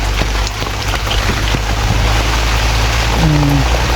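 Rain falls steadily on garden plants. The patter is close and continuous, mixed with a deep low rumble and a brief tonal hum near the end.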